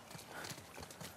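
Horse in the video game The Last of Us Part II, with quick clip-clop hoof beats and a brief neighing whinny, faint and close together within about a second.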